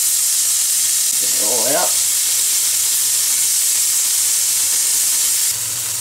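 Green curry paste sizzles hard in hot canola oil, a steady loud frying hiss that runs the whole time, with a brief spoken line partway through.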